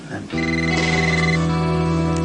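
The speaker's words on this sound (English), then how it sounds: "Answer the phone." A telephone rings loudly and close in a TV drama scene, a sustained electronic ringtone starting abruptly after a brief moment of background murmur and continuing steadily.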